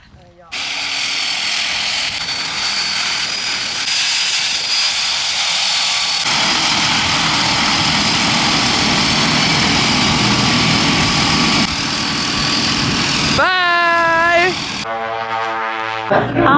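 Loud, steady aircraft engine drone inside a small plane climbing before a skydive, a constant roar filling the cabin, with people talking over it and a brief warbling tone near the end.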